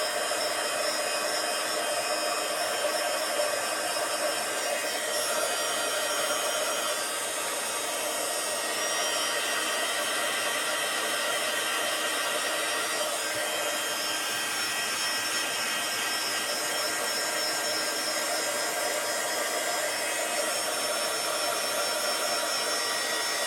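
A heat gun blows steadily while melting embossing powder on a card for heat embossing, a continuous loud whooshing roar with no pauses or talking.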